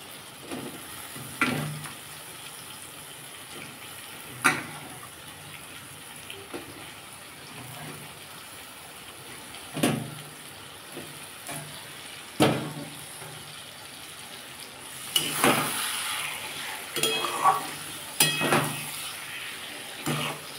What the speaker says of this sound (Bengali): এবার লোটে মাছগুলো আমি দিয়ে দেবো এতে।